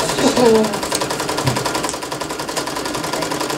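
An embroidery machine stitches a design, giving off a fast steady mechanical rattle close by, with a brief voice over the start.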